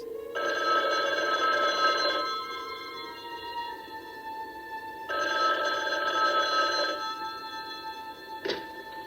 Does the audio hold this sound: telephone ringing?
yes